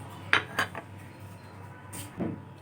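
Utensils clink against a dish as bread gulab jamun soaked in sugar syrup are served out, a few light metallic taps and a soft scrape, close and quiet with no talk.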